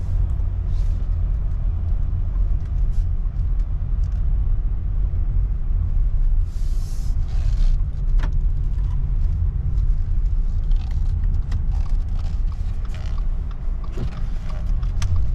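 A 2021 Subaru Crosstrek drives along a road, a steady low rumble of road and engine noise with faint creaks and mechanical rattles from the cabin, continuous and even throughout.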